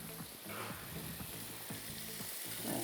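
Boiled potatoes fry in a pan with a steady crackling sizzle, broken by the repeated scrape and clink of stirring, close and continuous throughout.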